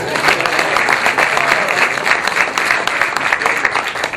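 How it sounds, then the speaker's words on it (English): A seminar audience in Dallas gives Gary another round of applause, a loud dense burst of many hands clapping steadily for several seconds, close and filling the room. "Let's give Gary another round of applause"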